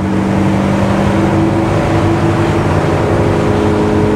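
A 1965 Chevrolet C10 pickup with a 305 engine pulls hard under load, its loud, steady engine roar and drivetrain drone filling the cab continuously from start to finish with no voices.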